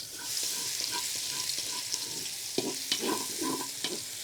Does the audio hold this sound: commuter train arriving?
no